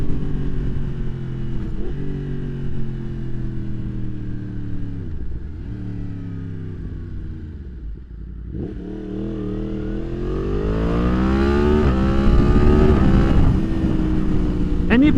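A 2023 Yamaha MT-10 fitted with a Leo Vince slip-on exhaust roars loudly and close up as it accelerates through the gears, its pitch climbing and dropping at each shift before surging to a strong high rev in second gear.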